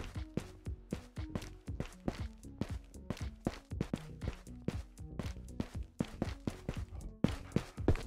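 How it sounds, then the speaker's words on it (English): Rapid, steady footsteps in the game Ghosts of Tabor, a fast run of sharp thudding steps close by, continuing evenly without any talking. "I'm hearing footsteps."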